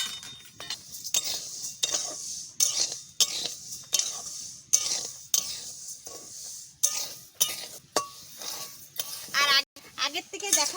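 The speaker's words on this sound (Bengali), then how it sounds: "চাল দিয়ে দিচ্ছি" Rice is tipped into a cooking pot for a bhondor recipe, with repeated close metallic scrapes and clinks of a spoon against the pot in an irregular rhythm, joined by a faint sizzle.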